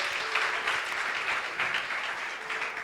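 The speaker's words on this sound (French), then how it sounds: "Est-ce qu'on peut acclamer pour Esther?" A church audience breaks into brief applause, a dense wash of clapping that stays steady and fairly loud throughout.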